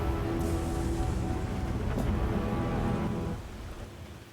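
A thunderstorm sound effect plays during a tabletop game session, a dense rumbling wash of rain and thunder that holds steady, then drops away abruptly near the end.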